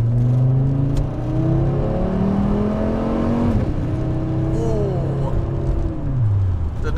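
A turbocharged 1996 Volvo wagon accelerates hard through a first-to-second gear shift, engine revving up loudly, briefly dropping at the change, then pulling up again close by with road noise under it.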